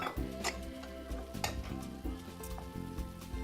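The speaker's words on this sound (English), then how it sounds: "we're gonna go ahead and throw in the beans, the tomatoes, and the rest of the spices" Beans, tomatoes and spices being tossed and stirred into a vegan, gluten-free gnocchi stir fry in a pan, with soft scraping, light sizzling and a few clinks under steady, louder background music.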